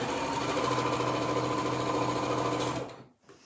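Sewing machine stitching the seam of a gathered circular cushion, a steady rapid mechanical whir at close range that runs for nearly three seconds before stopping abruptly.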